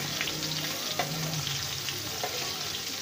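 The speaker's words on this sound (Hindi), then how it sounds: "चिकन को आपने अच्छे तरीके से फ्राई करना है" Chicken breast frying in a pan, a steady broadband sizzle with a low hum beneath and a few faint scraping clicks, no talking.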